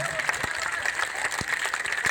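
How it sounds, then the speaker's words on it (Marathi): A crowd of women clapping at a political rally produces a dense, steady patter of applause throughout, with a few sharper individual claps standing out and a faint murmur of voices underneath. "दोन्ही हात वर करून टाळ्या वाजवल्या पाहिजे"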